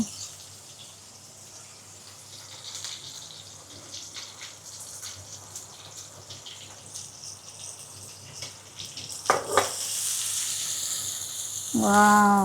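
Panch phoron spices frying in a pan and being stirred, a soft continuous sizzle with scraping stirs, swelling louder toward the end, close up with no talking.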